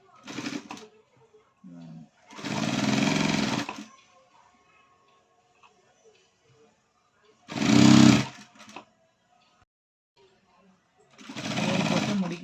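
A sewing machine stitches a plain low-neck princess-cut blouse in three separate loud runs, with quiet pauses between them.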